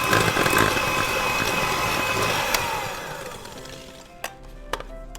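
Continuous whirring of an electric mixer briefly blending flour into apple streusel cake batter, steady and fairly loud before fading out, followed by a few light clinks against the bowl.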